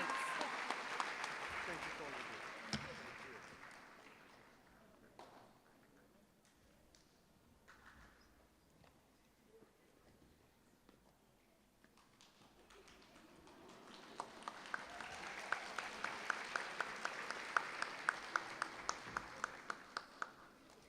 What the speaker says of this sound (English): let's give a round of applause to Dr. Rendu